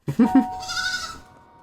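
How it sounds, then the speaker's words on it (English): A goat bleats from a TV episode during a reaction viewing: a single wavering, nasal cry of about a second, preceded by a few short low thumps, fairly close and clear. "You did recognize a goat immediately."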